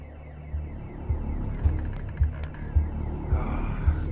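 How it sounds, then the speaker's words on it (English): A security alarm in the game The Occupation pulses with low throbbing booms repeating about every half second over a steady droning hum. "This alarm could have been easily avoided if we'd paid attention to our surroundings."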